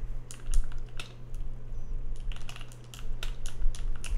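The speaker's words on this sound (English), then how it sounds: "You can hear my keyboard?" Clicky computer keyboard keys typed in quick irregular bursts, sharp close-up clacks with brief pauses, over a steady low electrical hum.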